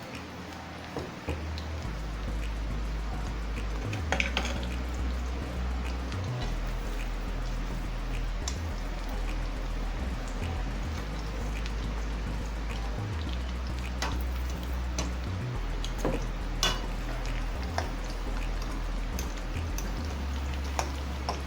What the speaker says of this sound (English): because you're just barely frying them at this point